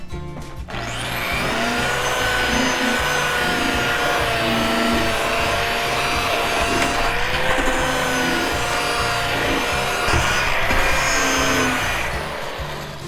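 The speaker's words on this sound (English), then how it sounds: "once we've scuffed up our surface" A power tool whirs loudly and steadily up close while scuffing the painted surface of a Sprinter van to remove clear coat, the droning buzz holding for over ten seconds.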